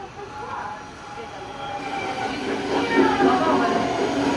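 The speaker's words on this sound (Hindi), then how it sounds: "तो ये रही हमारी ट्रेन" The Glacier Express in the Swiss Alps rolls in with a rising rumble, light squeals and metallic clatter that grow louder toward the end, while a person talks over it.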